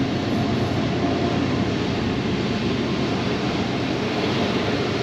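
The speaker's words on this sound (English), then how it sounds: "Got a train across the river." A continuous broad rumble of a train passing across a river near the ghost town of Thurmond, West Virginia, fills the clip, steady and fairly loud, with a wide noisy roar and no speech.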